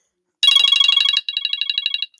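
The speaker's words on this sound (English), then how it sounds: "I had to turn off a phone call." An incoming call sets a phone ringing with a bright electronic trilling ringtone, one burst followed by a second rapid pulsing phrase, close and clear in a quiet room.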